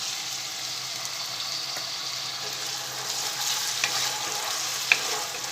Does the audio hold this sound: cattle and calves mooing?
no